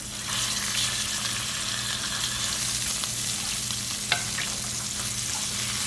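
Skinless salmon fillets sizzle in a frying pan just after being flipped, a steady close crackling hiss with one brief clink partway through, no voices.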